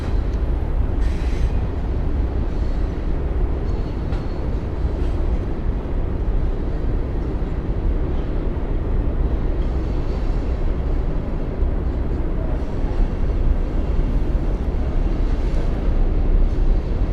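Norfolk Southern freight train led by a GE AC44C6M locomotive, a modernized AC rebuild of a Dash 9, rumbling steadily past at close range with a constant loud low roar of wheels and cars for the whole stretch.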